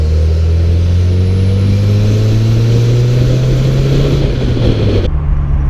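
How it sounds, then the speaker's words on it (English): A turbocharged rotary engine in a 1991 Mazda RX-7 FC drones loudly from inside the cabin, a rising whine building steadily as the turbo spools, then dropping off abruptly near the end. "So you hear the turbo spooling like a mother. It's so loud."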